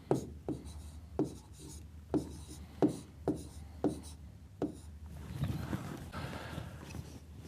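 Pen writing on a paper application form, a close series of quick scratchy strokes in an even rhythm, then a softer stretch of continuous rubbing.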